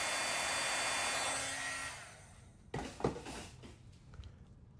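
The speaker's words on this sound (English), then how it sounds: "When it heats, it's going to emboss and it's going to puff up." Heat gun blowing a loud, steady hot-air roar to heat-emboss glitter on a card for fur trim, then shutting off and fading, followed by a few close clicks and handling knocks.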